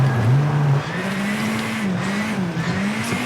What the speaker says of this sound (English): Get it down to first, build up those revs.